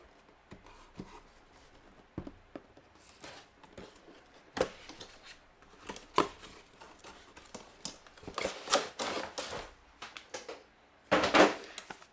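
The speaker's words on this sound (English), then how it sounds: "might need a knife for this one" A knife slices and scrapes through the plastic and cardboard packaging of a Star Wars Mission Fleet Boba Fett Firespray toy, with scattered scratches and short rustles that build into denser bursts near the end.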